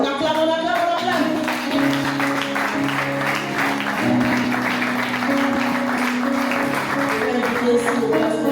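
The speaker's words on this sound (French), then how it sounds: "On acclame, on acclame, on acclame." Congregation applauding in a church during a Sunday thanksgiving service, a steady sustained wash of clapping that holds at even loudness for several seconds, with music and voices running underneath.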